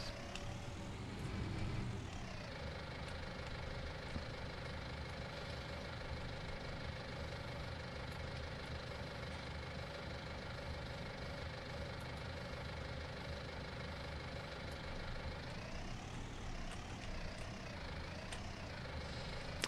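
A tractor in Farming Simulator 19 idles with a steady, even engine drone that holds for the whole stretch, rising briefly at the start and near the end.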